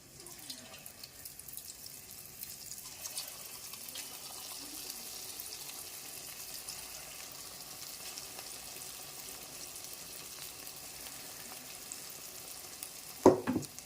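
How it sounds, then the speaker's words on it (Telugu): Punugulu batter fritters frying in hot oil on a low flame, a soft steady bubbling hiss that continues quietly, ending in a brief louder clatter near the close. "ఆయిల్ బాగా హీట్ ఎక్కింది. ఇప్పుడు చిన్నగా వేసేద్దాము పునుగులు."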